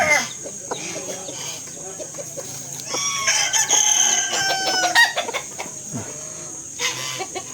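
Native free-range chickens cluck loudly and nearby on a mountain farm while a rooster crows, the sharp calls overlapping in uneven bursts against a steady outdoor hum.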